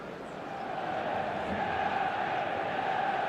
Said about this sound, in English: a lot of applause for the thought